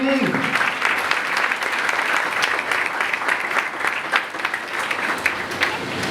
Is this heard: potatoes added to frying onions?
no